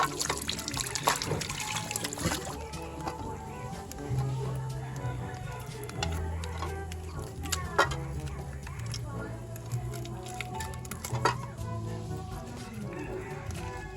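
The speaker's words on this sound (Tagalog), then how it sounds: "Atin na po itong hugasan." Tulingan fish washed under running water, a steady trickle and splash from a tap with intermittent sloshing as the fish is handled, while a person talks over it.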